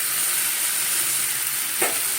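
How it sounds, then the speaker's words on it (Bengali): Spice masala frying and being stirred in a pan before potato and cauliflower go in, a steady close sizzle with one brief scrape of the spoon near the end. "চলো এটা একটু কষাই মশলাটা কষানো হয়ে গেছে"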